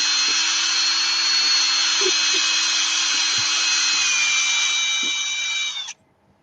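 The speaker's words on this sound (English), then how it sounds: "Hang on, I'll unscrew it." A power drill whines steadily and loudly for about six seconds while unscrewing something, then cuts off abruptly into quiet.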